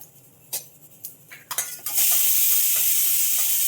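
Cumin seeds sizzle and crackle in hot oil for a tempering, starting with a few sharp clinks and stirs, then breaking into a steady, loud close-up sizzle.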